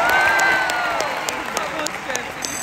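Spectators at a horse show arena applaud and cheer continuously, moderately distant, with a commentator's voice running over the crowd noise.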